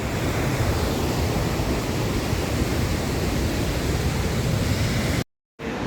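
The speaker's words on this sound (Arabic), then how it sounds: "شوفوا كيف الرذاذ. شوفوا جمالية المكان والشلالات في فيكتوريا." Victoria Falls waterfall roars as a dense, continuous rush of falling water and spray, loud and unbroken, with a brief dropout near the end.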